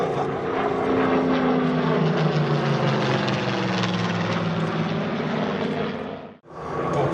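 A WWII propeller warplane flies at the 2018 La Ferté-Alais airshow, where a Spitfire, a Messerschmitt 109 and a Curtiss H-75 were displayed. Its engine drone is loud and steady, and the pitch slides downward as it passes before cutting out briefly near the end.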